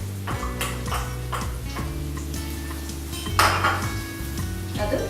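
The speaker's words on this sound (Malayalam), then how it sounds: "അപ്പൊ തന്നെ നമുക്ക് ഇതിലേക്ക് ഓണിയൻ ഇടാം." Chopped onions tipped into a cooking pan for Chettinadu chicken bring metallic clinks and scrapes of utensil against pan, with a brief louder clatter and light sizzle, close and fairly steady.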